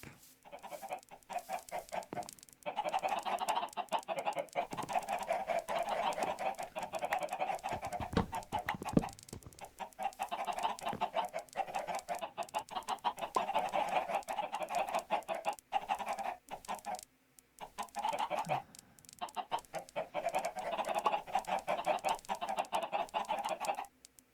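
Chickens cluck in Minecraft in short repeated bursts at a moderate level, with brief pauses between them.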